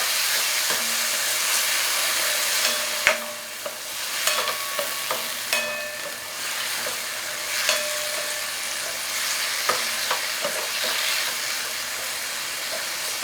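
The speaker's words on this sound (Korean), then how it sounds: "천천히 볶아볼게요" Seafood jjamppong meal-kit vegetables and dried chilies stir-fried in a handleless frying pan, giving a steady close sizzle with scattered clicks and scrapes of stirring throughout, no voices.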